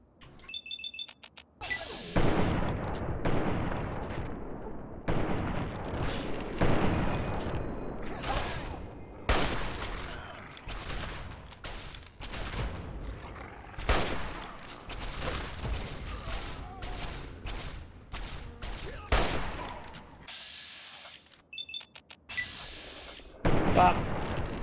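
Shotgun blasts and booming gunfire in Fallout 3, loud irregular reports arriving in bursts over about twenty-five seconds, some spaced apart and others in quick clusters, with game effects between them.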